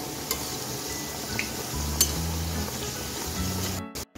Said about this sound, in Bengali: আমি গ্যাসটা লোতে রেখেই আস্তে আস্তে মুচমুচে করে ভেজে নিব পাপড়িগুলো।